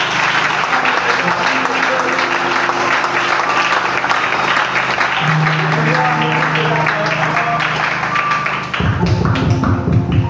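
A church congregation applauds and cheers in praise of the Lord, a loud, steady wash of clapping that fills the room for the whole stretch, with voices and music tones mixed in and a sudden shift in the low end near the close.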